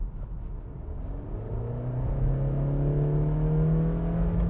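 Honda CR-V Touring Black Edition with a CVT pulling hard under full throttle from about 50 km/h, a steady engine drone climbing smoothly in pitch as revs build, rising louder over several seconds with no gear-shift breaks.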